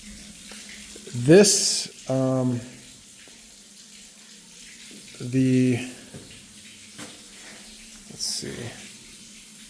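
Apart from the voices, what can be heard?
water draining from leaking pipe flange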